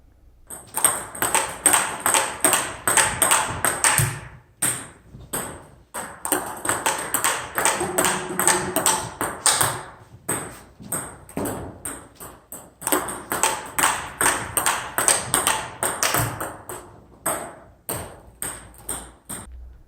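Rapid, sharp table tennis backhand smash hits in quick rallies, crisp clicks repeating at a steady fast rhythm with brief pauses between bursts.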